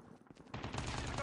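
Gunfire in the Call of Duty video game, a quiet stretch breaking into a dense, sustained burst of rapid automatic shots that stays loud to the end, with faint voice chatter mixed in.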